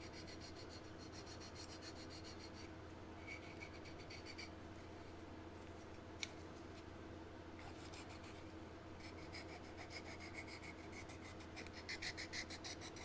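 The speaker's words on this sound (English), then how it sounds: "we'll just start sanding all of it together." Someone hand-sands a model car body with quiet, repeated back-and-forth rasping strokes in bursts, grainy and close, with brief pauses and no talking.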